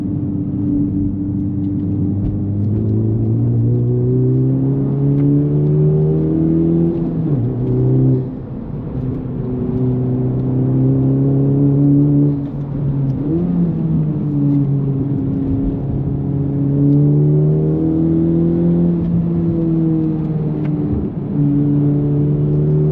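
A Honda Civic Type R FL5 fitted with an AWE Touring exhaust revs through downshifts on wet roads, its engine note rising and falling in deep sweeping pulls, loud and close from inside the cabin with no one talking.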